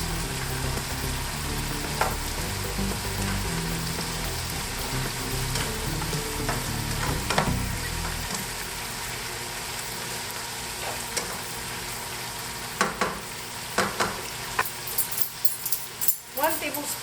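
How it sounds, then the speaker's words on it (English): Carrots hit a hot pan for a sweet and sour mackerel dish and fry with a steady, loud sizzle, broken by a few sharp stirring clacks near the end, heard close up. "now I'm gonna add the carrots"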